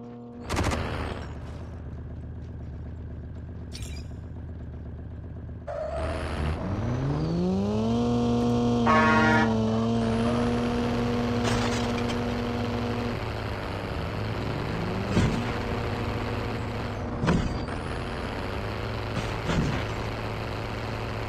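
A vehicle engine in the Call of Duty Mobile battle royale winds up from a low idle into a rising, sustained drone, surrounded by scattered gunfire bursts and brief impacts, with no voices.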